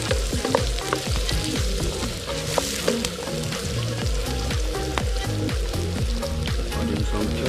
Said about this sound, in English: Sauteing the vegetable for a minute.